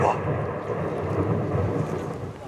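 A thunder sound effect rumbles through an outdoor stage performance. It is a steady, moderately loud low roll that lasts the whole moment, with no sharp crack.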